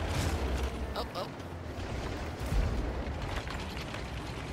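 An artillery shell strikes a tank in World of Tanks, producing heavy rumbling booms with crackling debris over a dense, continuous low roar, while a voice talks over the battle.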